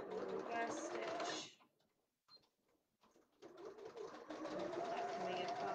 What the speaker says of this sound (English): I'm going to do a line of stitching across the top to hold the layers together.